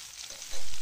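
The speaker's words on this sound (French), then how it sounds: "D'abord, je fais revenir les oignons quelques instants" Onions sautéing in vegetable oil in a pan give a brief, steady hiss of frying that swells louder in the second half, with a few low knocks and no speech.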